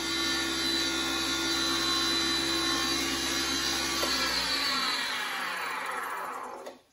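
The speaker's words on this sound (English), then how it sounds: "I'll buff around a little bit more until I don't see a whole lot of wax coming off" A motorized buffing wheel polishes wax on a driftwood safety razor handle, a steady whirring hum with rubbing texture that spins down and fades out at the end.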